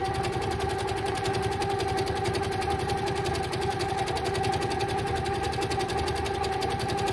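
A sewing machine runs steadily while making a few tacking stitches, a close, even, rapid mechanical chatter with a constant motor hum throughout.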